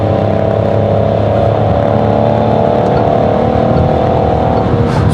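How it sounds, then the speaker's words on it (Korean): A 2022 Peugeot 3008 GT with the 1.2 PureTech gasoline engine revs hard at full throttle in sport mode, a loud, deep, steady engine drone holding high revs throughout with no pauses. "드라이브 모드를 스포츠로 바꿔서 풀 악셀 해보면은"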